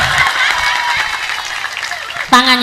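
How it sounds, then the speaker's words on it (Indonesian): Audience applause at an Islamic religious lecture in Indonesia, a broad wash of crowd clapping and cheering that carries through, ending with a voice breaking in over it. "Tepuk tangan."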